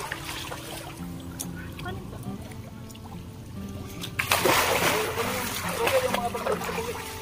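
Several people jump together into water, a sudden loud splash followed by churning, sloshing water, with voices chattering before and around it.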